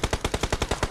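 Rapid video game gunfire, about ten evenly spaced shots fired in a quick automatic burst, loud and close, with no voices.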